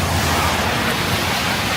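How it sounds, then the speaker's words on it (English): Gusty wind blows steadily across Yonge Street in Toronto's Willowdale area as rain approaches, a broad, continuous rushing noise buffeting the microphone with no break and no voices. "Oh, it's getting windy."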